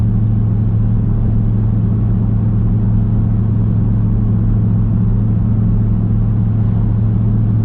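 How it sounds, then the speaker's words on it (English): Steady, loud engine and exhaust drone from a Jeep SRT fitted with a Solo exhaust, cruising on the highway at about 1600 to 1700 RPM, with continuous low rumble and road noise throughout and no talking. "So it's a pretty good idea of how it sounds on the highway."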